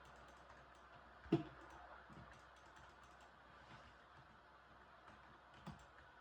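Faint computer keyboard taps and mouse clicks from a player during a duo shooter match, sparse and quiet over a low background hum, with one sharper click standing out.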